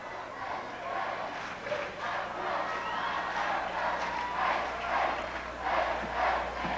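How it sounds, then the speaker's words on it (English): A packed fieldhouse crowd at a college basketball game between Trevecca and Lipscomb cheers and chants in loud, swelling waves, with a steady roar and rhythmic bursts. "Look at the Lipscomb crowd."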